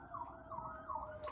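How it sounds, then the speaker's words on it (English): A faint, wailing siren rises and falls repeatedly in the distance, sounding as if it comes from outside. "there's sirens outside my window here"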